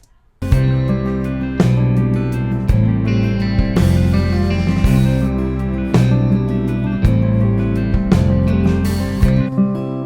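A full unmixed song plays with strummed acoustic guitar under steady drums and other instruments, loud and continuous throughout.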